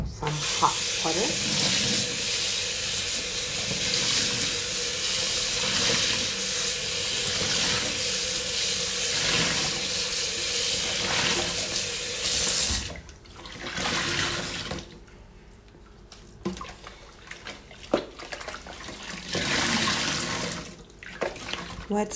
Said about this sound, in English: Now some hot water.